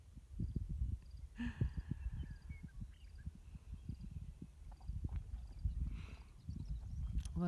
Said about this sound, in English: Big fancy name for a big horse.